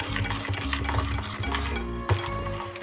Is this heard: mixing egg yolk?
yes